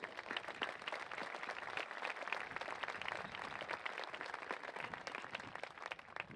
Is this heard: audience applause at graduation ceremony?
yes